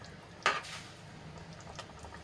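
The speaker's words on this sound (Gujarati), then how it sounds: "હવે સરસ રીતે લીંબુ અને ખાંડ મિક્સ કરી લઈશું" Lemon juice and sugar are stirred into a vegetable dish in a pan. One bright utensil clink against the pan is followed by soft scraping and a light second tap over a quiet background.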